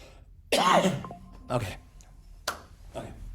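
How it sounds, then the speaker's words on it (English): A single throaty cough or throat clear, close and fairly loud, followed by a couple of softer short bursts in a quiet room. "Had a cough."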